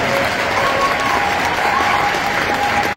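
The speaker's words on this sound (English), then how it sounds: "Let's give a final round of applause" A large audience gives a final round of applause, a loud, dense and continuous roar of clapping that cuts off abruptly at the end.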